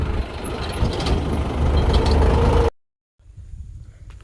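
A four-cylinder farm tractor engine runs with a loud, steady rumble, then cuts out abruptly for a moment before returning more quietly.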